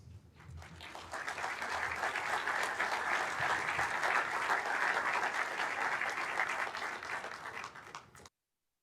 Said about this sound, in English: Let's give another round of applause to both those great innovations.